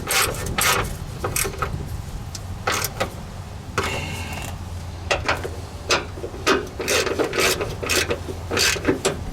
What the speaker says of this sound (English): Now to tighten them down.